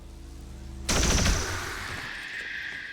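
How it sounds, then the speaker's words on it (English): One sharp pistol shot in XCOM 2 cracks loudly out of a quiet, faintly humming background, then trails off in a fading ringing tail. "I think we just fire pistol here"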